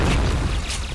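A loud, muffled grenade explosion from the shooter game Point Blank booms with a rumbling, crackling burst that lasts about a second.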